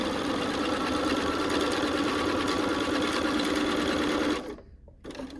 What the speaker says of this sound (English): and I will sew it